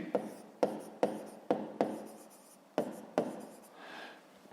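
A pen writes on paper at close range in short, soft bursts of scratching strokes, with a brief pause between each one.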